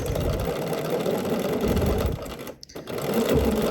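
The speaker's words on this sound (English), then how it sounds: "So I'm just gonna sew about, just right next to that fold line." Domestic sewing machine stitching a seam next to a fold line, a close, steady mechanical whir that runs continuously, briefly stops and then starts again.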